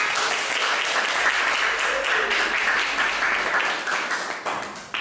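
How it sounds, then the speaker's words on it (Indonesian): Class applause for a group presentation, a steady patter of many hands clapping close by for several seconds before tapering into a few scattered claps. "Kita berikan aplaus dulu untuk teman kalian."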